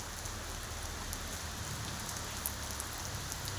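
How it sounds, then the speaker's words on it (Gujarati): Light drizzle falls steadily, making a soft, continuous rain patter on surfaces at an even level throughout, with no voices. "ઝરમર ઝરમર ઝરમર વરસાદ ચાલુ થઈ ગયેલ છે."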